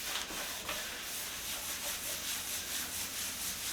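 A cloth rubs oil into a hardwood floor in small circles, making a steady, close, soft scrubbing swish that runs without a break.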